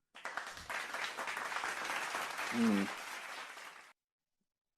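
An audience claps and applauds for a performance, a steady patter of many hands lasting several seconds at moderate distance, with a brief murmur partway through before it cuts off.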